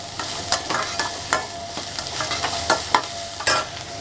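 Chopped vegetables, onion among them, sauté and sizzle in a pan for fish fried rice, with scattered stirring clatters and scrapes over a steady low frying hiss, close and moderately loud, no talk.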